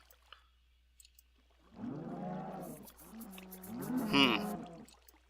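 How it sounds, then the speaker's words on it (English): Two drawn-out cow moos in a video game, one after another, the second louder and rising, with faint clicks before them and a steady low hum underneath. "Bring forward a pair of cows."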